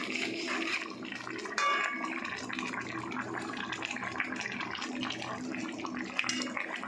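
Fish curry bubbling in a pot gives a steady, faint watery boil and hiss, with a few light clinks and a hint of a voice in the background.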